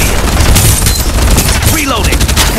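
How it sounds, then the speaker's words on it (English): Loud, continuous automatic gunfire from the shooter game Farlight 84 rattles in dense bursts with booming impacts, under game music and voice lines. "Exchanging fire."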